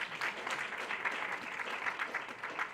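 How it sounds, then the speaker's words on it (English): An audience applauds steadily at a public lecture given by a deputy minister, a dense, even patter of many hands clapping throughout, with no speech over it. "Let's clap for that as well."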